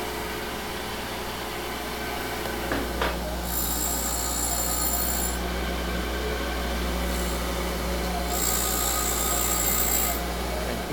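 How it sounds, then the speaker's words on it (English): Surface grinder wheel being dressed before grinding a magnetic chuck, giving a steady high-pitched grinding squeal that holds throughout, with brighter screeching bursts from the dressing passes, loud and close, no talking. "Now we got to dress our wheel"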